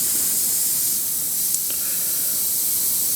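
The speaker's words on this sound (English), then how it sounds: "we're just going to mist this over really gently. I'm barely pulling back on the trigger at all" Spray gun gently misting paint with the trigger barely pulled, a soft steady airy hiss throughout, faint and even, with one tiny click partway through and no voices.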